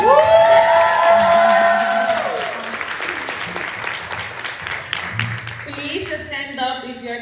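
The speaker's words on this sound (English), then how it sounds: "we have to clap now, we have to celebrate each other" An audience at a fitness coaching event bursts into whooping cheers and clapping that settles into steady applause, with a voice starting to talk over it near the end.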